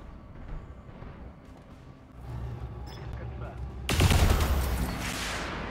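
Missile salvo from a BattleTech mech's LRM5 launcher in a video game: a rapid burst of layered launch blasts erupts midway, loud and dense, following a stretch of quieter rumbling background.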